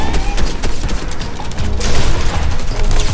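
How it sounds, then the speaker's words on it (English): Loud, dense burst of explosive blasts and gunfire in a Fortnite match, a grenade going off amid rapid crackling shots that keep a heavy, rumbling intensity throughout. "This grenade got me."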